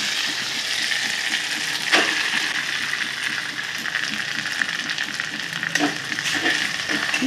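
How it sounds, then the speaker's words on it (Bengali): Grated potatoes for aloo paratha fry in hot oil over a low gas flame. A steady close sizzle runs throughout, with occasional clinks and scrapes of stirring. "এবার গ্যাসের ফ্লেম লো করে গ্রেট করে নেওয়া আলুগুলো তেলের ওপরে ছেড়ে দিতে হবে"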